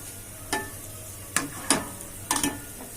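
Sweets frying in oil on a medium flame, a low steady hiss broken by four or five sharp crackling pops, heard close with no talking.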